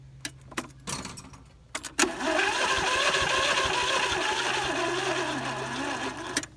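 A John Deere mower engine on a weak battery cranks after a few keys jangling and clicks, a sustained, labored whirring starter grind lasting several seconds before cutting off.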